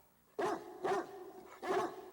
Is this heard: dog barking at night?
yes